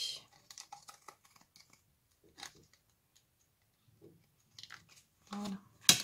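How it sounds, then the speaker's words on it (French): Scissors snip paper trimming the edges of a handmade card with a doily and butterfly, a few quiet, sparse cuts with pauses between, close and alone. "je vais venir découper ce qui dépasse"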